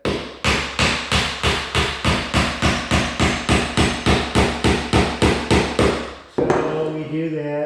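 Repeated hammer blows, about twenty evenly spaced sharp strikes, drive an 8-penny 2.5-inch finish trim nail into wood trim, loud and close, ending with a brief clatter and muffled voice.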